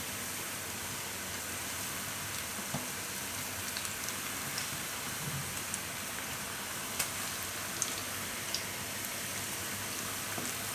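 Cabbage bhajiya batter frying in hot oil over a lowered gas flame makes a steady, fairly quiet sizzle with a few scattered crackles, and no voices are heard.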